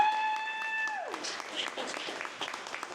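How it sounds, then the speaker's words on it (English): An audience at a Saturday morning forum breaks into a round of applause, a dense crackle of many hands that follows a brief descending whistle-like tone and carries on steadily at moderate volume. "Give yourselves a round of applause for being here today on a Saturday morning."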